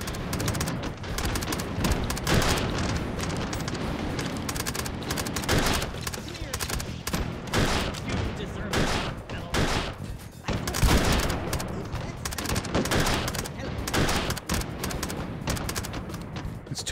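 Repeated loud gunshots crack in bursts throughout, with scattered rapid fire and echoing booms in the Hot Dogs, Horseshoes & Hand Grenades VR game, while someone talks occasionally.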